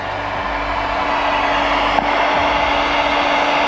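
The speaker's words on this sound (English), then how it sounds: "As you can hear, the inverter fans have kicked on too." Inverter cooling fans run while a 200Ah Kings lithium battery supplies about 196 amps, a loud steady whooshing hum with one faint click midway, close and continuous, no talking.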